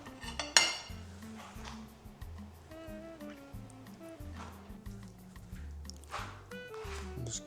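Clink and scrape of utensils on a dish as rice and fish are plated, light taps and soft scoops at close range over steady background music.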